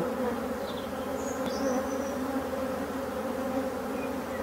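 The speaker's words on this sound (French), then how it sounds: "Superbe abeille" Honeybees buzzing steadily at an open beehive during an inspection, a dense continuous drone close by with no talk.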